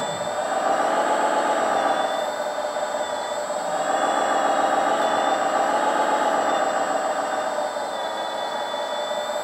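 Continuous whining hum of the hydraulic pump on a LESU ET30H radio-controlled wheeled excavator, steady and close with a thin high squeal running throughout and no voices.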